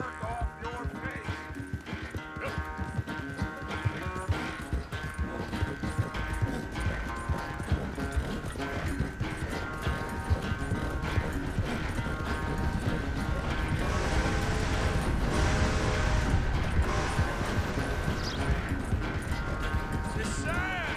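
Horse hooves clip-clop in a steady rhythm in Red Dead Redemption 2, with game characters talking over the hoofbeats and background music.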